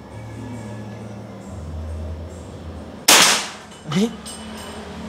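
A PCP air rifle, a 500cc double-tank model, fires one sharp, loud crack about midway, followed a beat later by a smaller knock of the pellet striking and toppling a target, over low background murmur.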